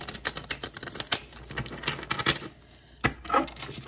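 A deck of cards is shuffled in a quiet room, giving quick ripples of crisp paper riffles and taps, then a brief pause and one final burst of shuffling.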